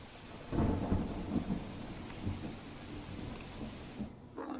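Heavy monsoon rain pours steadily with low rumbling thunder rolling underneath, a dense wash of storm noise and no voices, during flooding in Tapi district, Gujarat.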